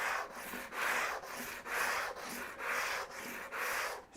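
Hand sanding a wooden panel clamped to a bench with 180 grit sandpaper, close rhythmic back-and-forth rasping strokes, about eight passes in steady succession.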